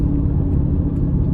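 Mercedes C55 AMG with a 6-speed manual accelerating hard in first gear with wheelspin, a steady loud engine roar and rumble close by, with no voices.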